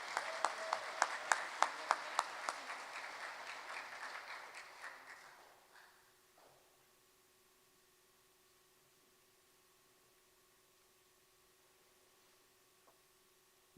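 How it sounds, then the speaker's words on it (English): Audience applause at a city mayor's education awards ceremony honoring elementary students, loud clapping for about five seconds with a few sharp claps, then fading out to near silence. "Big round of applause for Green Acres Elementary."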